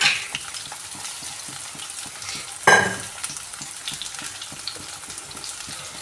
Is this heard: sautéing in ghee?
yes